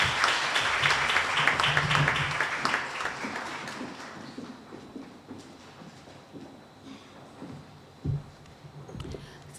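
Applause from the audience at a regional community resilience conference opening ceremony, loud dense clapping that fades over several seconds into scattered claps and room murmur, with one sharp thump near the end.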